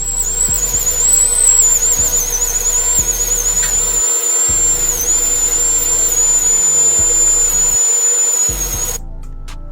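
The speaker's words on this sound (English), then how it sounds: "We are going to use a 330 burr for this particular step" A high-pitched dental drill with a 330 bur whines continuously while cutting a tooth, close and loud, with a low pulsing hum beneath that stops just before the end.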